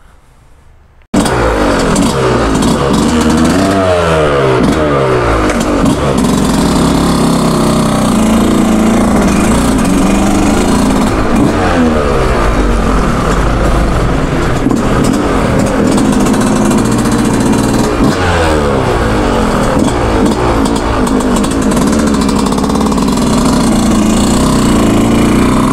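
In a Los Santos video game, a Yamaha YZ125 two-stroke motocross bike engine buzzes loudly and continuously, rising and falling in pitch through repeated revs and shifts.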